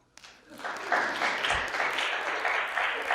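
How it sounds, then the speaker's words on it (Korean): Lecture audience breaks into applause, a dense crowd of clapping that swells within the first second after a short pause and then holds steady, with a thump near the middle and no talk over it. "자, 박수 쳐주세요."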